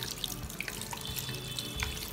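Running tap water splashes onto a washing machine part being rinsed in a sink, a close, steady gushing stream with faint drips and clinks.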